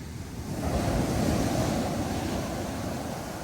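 Ocean waves rolling onto the sand at Laguna Beach, a broad close wash of surf that swells and then eases, with wind buffeting the microphone and no talking.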